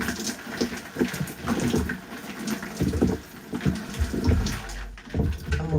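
Water splashes and trickles steadily onto sectioned natural curly hair during a pre-poo routine, a close, continuous wet rushing with soft irregular surges and no talking.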